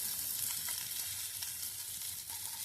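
Fish frying in hot oil in a pan, a steady close hiss and sizzle with faint crackling pops throughout and no voices.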